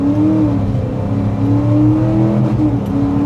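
A two-valve Mercury with a swapped-in 10-speed automatic accelerates hard, its engine droning loud and steady close by with a rising pitch through the gears.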